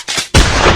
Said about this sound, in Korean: 갑자기 4발의 총소리가 울려 퍼졌어요.